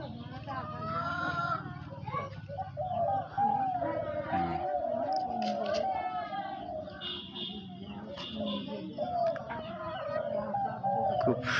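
A chicken clucking and crowing inside a cage, repeated close calls through most of the stretch while someone talks over it.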